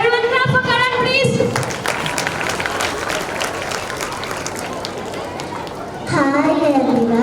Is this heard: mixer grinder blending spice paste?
no